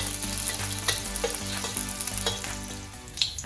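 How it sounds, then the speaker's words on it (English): Choy sum stir-fried with garlic in a hot, smoking wok, giving a steady close sizzle with crackling bursts and scraping stirs throughout, with no talking. "let's stir fry our choysam"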